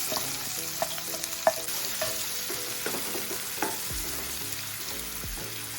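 Steady sizzling of chopped onion frying in a hot pan, with occasional scraping and stirring clinks, close and continuous.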